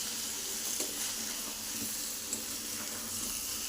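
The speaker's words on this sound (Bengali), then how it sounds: "দেখো এদিকে সয়াবিন কষানো হচ্ছে" Soybean chunks being sautéed in a pan on a home stove, a continuous quiet sizzle and hiss with a few faint scrapes of stirring, steady throughout.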